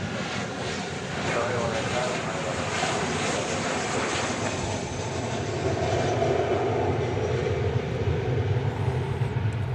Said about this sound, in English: Flight 654 arriving from Las Vegas, 737-800.